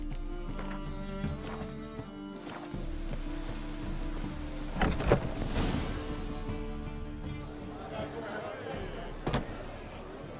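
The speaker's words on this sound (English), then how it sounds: "it's raining again" Steady rain in The Witcher 3 video game falls throughout, with a soft hiss, scattered drops and a couple of louder thuds partway through.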